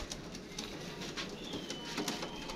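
Pigeons from a paired set being released, with soft cooing and light flutters of wings over steady background noise, fairly faint and continuous without talk.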